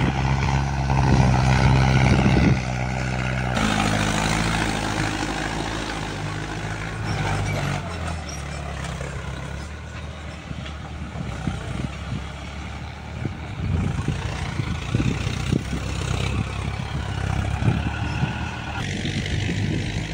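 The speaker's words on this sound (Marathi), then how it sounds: "पेरणीसाठी ट्रॅक्टर जे आहे ते सकाळी 7:15 आलेला आहे आणि पेरणीला सुरुवात झालेली" A tractor sowing soybeans in a farm field starts up and drones steadily throughout, its engine loud and close with a rough, rumbling low tone and shifting load.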